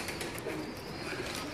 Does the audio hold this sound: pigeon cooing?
yes